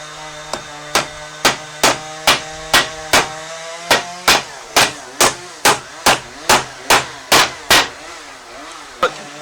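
Hammer driving nails into a small DIY wooden money box, with about twenty sharp, loud, evenly spaced knocks in a steady rhythm and a ringing wooden resonance, ending with one final blow.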